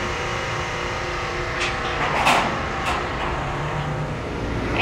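A car drives onto a hotshot car hauler trailer, its engine running steadily close by with a swell of revving partway through, over a constant low rumble.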